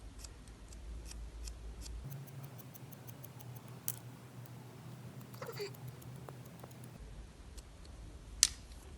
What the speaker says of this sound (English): I'm just going to do a point cutting technique